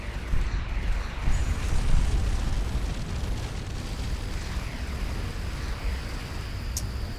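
A deep, sustained rumbling blast rolls on as an arm of a space station explodes in the game Starcom Nexus, swelling early and then holding a steady roar without talk.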